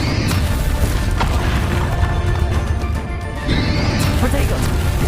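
Bombarda blasting spell in the Hogwarts Legacy video game: loud crashing booms and impacts in a dense battle mix, several heavy hits across the stretch with a brief dip before the din resumes, voices talking over it.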